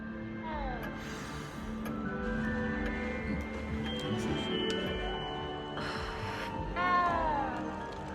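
A cat meows a few times in the Hogwarts Legacy video game, short rising-falling cries over a steady bed of game music and ambience, with a chime partway through.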